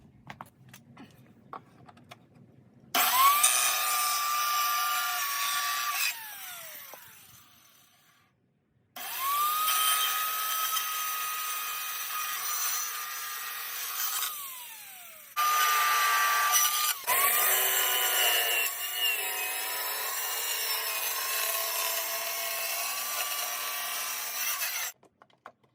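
A power saw cuts wood for a camper kitchen cabinet, a loud high whine in three long passes of several seconds each, separated by short quiet gaps, with the pitch dipping as the blade bites in.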